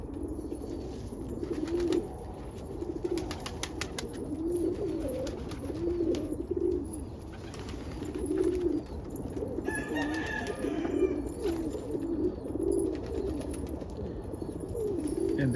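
Homing pigeons in a loft in the morning, including a gay homer cock bird, cooing in low, rolling phrases that repeat steadily throughout, close and continuous with faint higher chirps briefly mid-way.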